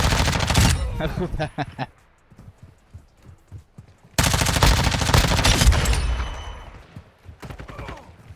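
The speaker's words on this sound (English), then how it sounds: "So moving on to the SMG, so the Lockman sub for this one." Gunfire from the Lachmann Sub SMG in a first-person shooter video game, heard as two long, loud automatic bursts with a quieter stretch of scattered clicks and movement between them, without speech.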